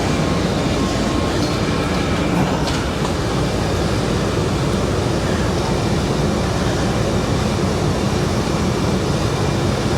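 A metro train runs along the track with a loud, continuous rumble and roar from inside the car. Faint rattles and clatter sit under the steady noise, and no one speaks.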